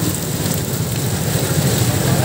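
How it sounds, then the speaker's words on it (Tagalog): Steady rain falls on a Marikina road early in the morning, a continuous broadband hiss with a low rumble of passing traffic underneath, with no clear voices. "Ulan."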